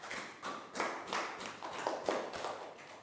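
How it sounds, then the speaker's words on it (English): A classroom of young children claps in a round of applause, a quick flurry of scattered hand claps in short rhythmic bursts, moderately close and fairly soft. "Big round of applause for Prau"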